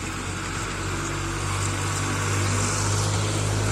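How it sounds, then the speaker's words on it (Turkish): A tractor passes close by with a steady, loud engine rumble and low droning hum, holding constant throughout. "Traktör geçiyor."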